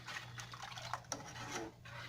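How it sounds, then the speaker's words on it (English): A utensil scrapes a bowl at the stove while chocolate cream tart filling cooks. The strokes are soft and raspy, come in a few irregular scrapes, and sound faint and close. "you're going to want to scrape the bowl"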